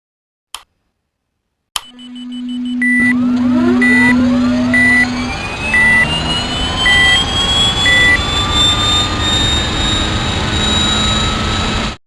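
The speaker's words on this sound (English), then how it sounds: "So there we go, engine number 1 has successfully started." A Boeing 737 MAX 8 airliner's number 1 jet engine spools up from silence after a couple of sharp clicks, a rising whine climbing steadily over a broad roar that grows loud and sustained.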